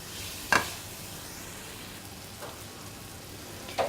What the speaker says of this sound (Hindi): अब ये अच्छी तरह सौते हो चुका है प्याज